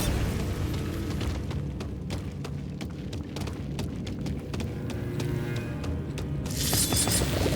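Bombarda spells go off in the Hogwarts Legacy video game as a string of sharp booms and impacts, with rapid clattering hits throughout and a louder noisy burst near the end.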